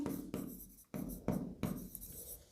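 Marker or chalk writing on a board during an accounts lesson, several scratchy strokes in bursts separated by brief pauses, close and fairly quiet with no talk.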